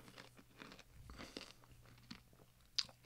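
Sour Patch Kids cereal crunched up close in the mouth, a series of soft, irregular chewing crunches at low volume with one sharper crack near the end.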